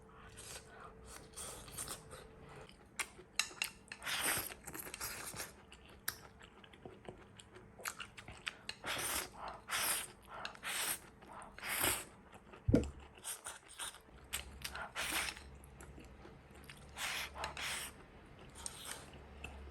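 Someone eats a bowl of stir-fried mixed vegetable stew made from freshly picked produce, with close, irregular soft chewing, crunching and bowl-and-utensil clicks spread across a quiet room, no speech.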